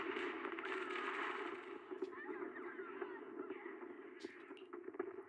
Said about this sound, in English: The deafening gunfire grows louder,